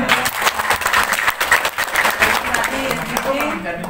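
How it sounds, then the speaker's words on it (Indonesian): Applause from a group of teachers at an education workshop in an Indonesian classroom, a steady burst of many hands clapping close by, with voices talking and calling out over it throughout. "Oke, tepuk tangan."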